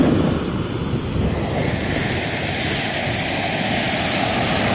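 Ocean surf rolling onto Marina Beach in Chennai, a steady broadband wash of breaking waves mixed with wind buffeting the microphone, loud and continuous with no talk.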